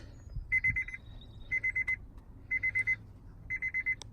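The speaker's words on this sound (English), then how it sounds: "Sorry for the beeping, I know it may annoy some people." An electronic alarm in a 2007 Honda Ridgeline 4x4 beeps in quick clusters of four or five, repeating every second, fairly quiet over a low background rumble.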